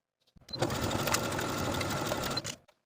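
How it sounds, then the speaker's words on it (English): A sewing machine stitches fabric steadily for about two seconds, a close, rapid mechanical chatter that starts and stops cleanly. "I'm going to take it to my sewing machine and sew close to this inner fold of the sleeves"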